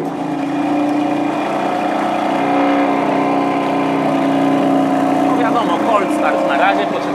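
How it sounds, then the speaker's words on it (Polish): A BMW engine runs on its stock exhaust inside a garage, a loud, steady idle drone with a low throb that continues unbroken for several seconds while people talk nearby. "To ja ci muszę ją odpalić, bo dobra. Ona tak fajnie gada na seryjnym wydechu."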